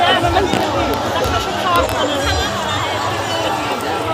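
Dense crowd at a busy fair near a temple, a steady babble of many voices and footsteps close around, with someone talking over it.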